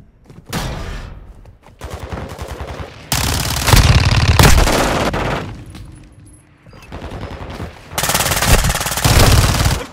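Loud, close automatic gunfire from a Call of Duty: Modern Warfare II ground war battle, coming in several sustained rapid bursts with short pauses between them.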